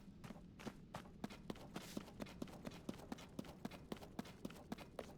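Horse hooves clip-clop in The Legend of Zelda: Tears of the Kingdom, a quick, even run of sharp hoofbeats that stays close and steady over a soft background.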